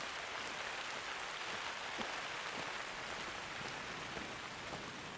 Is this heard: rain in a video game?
yes